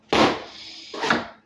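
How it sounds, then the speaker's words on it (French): Two sharp slaps of a plastic fly swatter against a hard surface, a loud hit then a second one a beat later, close and indoors with no talk over them. "mais j'avais juste un truc à chasser. Avec un tape-mouche."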